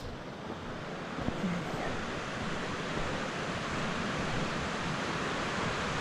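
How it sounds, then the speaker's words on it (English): A stream at Hardcastle Crags flows steadily with an even, broadband rush of water, constant and moderately close, with no speech. "Just listen to that water."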